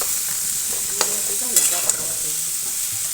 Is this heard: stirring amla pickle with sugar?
yes